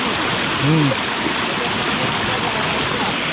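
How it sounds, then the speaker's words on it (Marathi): A strong, fast stream current rushes steadily through a rain-fed channel at night in the Konkan, a dense continuous wash of water close by, with a brief voice-like tone near the start. "मित्रांनो पाणी बघा किती आहे आणि पाण्याचा झोत एकदम जोरात आहे"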